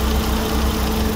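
A Mini Cooper engine idles steadily, a close, continuous low rumble with an even, unbroken tone and no voices over it.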